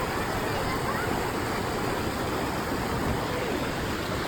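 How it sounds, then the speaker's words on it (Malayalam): Water pouring over the Kataldhar waterfall near Lonavala during the monsoon, a steady unbroken broadband roar that holds an even level from start to finish, with no other sound rising above it. "ഈ വെള്ളം പോയി വീഴുന്ന സ്ഥലം കേട്ടോ"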